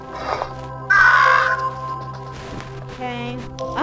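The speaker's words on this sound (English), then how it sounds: "I don't want these crow people. They're getting annoying." Crow people in the video game Monument Valley caw in harsh, loud bursts, one strong call standing out early and fainter calls following, set against a steady musical drone.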